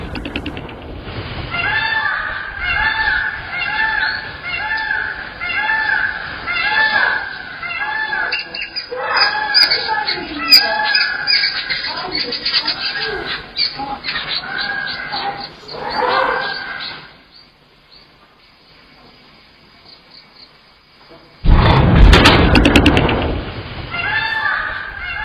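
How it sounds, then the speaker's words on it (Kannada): Peacocks and other birds call in Thodikana village right after an earthquake: repeated loud squawks in a steady series at a moderate distance, thinning to near quiet before a final noisy burst. "ಇವಾಗ ನಿಮಗೆ ಕೇಳಿಸ್ತಾ ಇರೋದು ತೋಡಿಕಾನ ಗ್ರಾಮದ ಆ ಭೂಕಂಪನದ ತಕ್ಷಣ ನವಿಲು ಮತ್ತು ಇನ್ನಿತರ ಪಕ್ಷಿಗಳು"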